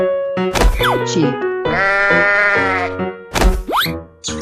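A cartoon sheep bleats loudly and up close in a long wavering baa, framed by short springy boing-like effects before and after.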